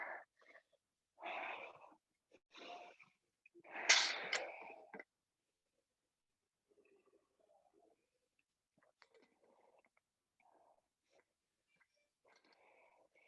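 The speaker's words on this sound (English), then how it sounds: "Ooh, I'm out of breath." Heavy breathing after a yoga warm-up: several loud, breathy puffs and wheezy exhales over the first few seconds, then only faint, scattered small sounds.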